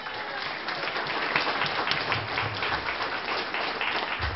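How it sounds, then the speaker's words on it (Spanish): A congregation at a church service in Santiago de Chuco, La Libertad, claps together in a steady, loud, sustained burst of applause with no voices rising above it. "¡Denle un aplauso a Cristo!"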